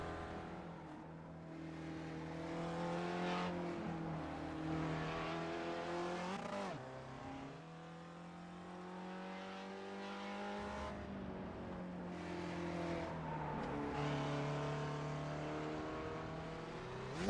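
Engine of a Mazda MX-5 race car on Laguna Seca in iRacing, revving up through gears in rising harmonic sweeps, dropping sharply under braking, then climbing again loud and continuous, with no talk.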